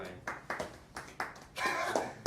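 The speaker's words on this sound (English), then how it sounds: "That was a pathetic clap, you people." A small class audience gives a few scattered, half-hearted claps in an uneven, sparse rhythm, fairly quiet and thin, with brief pauses between them.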